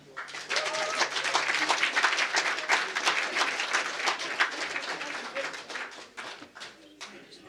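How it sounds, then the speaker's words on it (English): Audience applause at a Scottish Sovereigns meetup, steady clapping over a full room that carries on for several seconds and then thins out, with voices and a bit of chatter mixed in. "So a big round of applause for Theresa."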